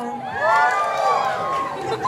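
A crowd at the Queen of Sampaloc 2024 pageant during the national costume segment cheers and shouts, a loud, continuous roar of many voices with rising and falling screams.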